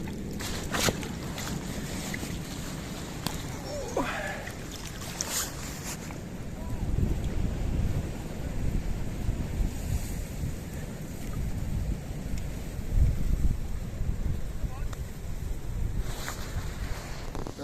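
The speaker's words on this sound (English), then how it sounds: "It's a windy day today." Strong wind gusts over a riverbank, a rough broadband buffeting that rises and falls across the whole stretch, with occasional handling knocks close by.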